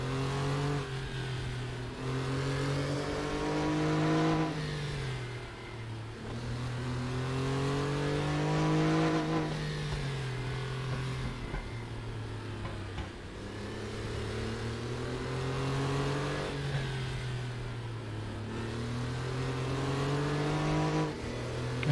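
Porsche Carrera Cup Classic race cars lapping Knutstorp in a racing video game, engines revving and rising through gears in continuous waves, loud and close, with pitch sweeping up and dropping at each shift.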